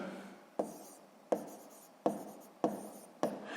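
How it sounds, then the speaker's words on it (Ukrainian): A pen scratches out a math solution on paper in five quick, evenly spaced strokes, each a sharp onset fading off, quiet and close with no talk. "Так і записуємо."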